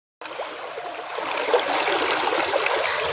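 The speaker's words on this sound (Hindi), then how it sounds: "ये पानी चल रहा है" A stream of cold, fresh water flows steadily in a bright continuous rush, close and fairly loud. It starts abruptly and then holds an even hiss without any voices.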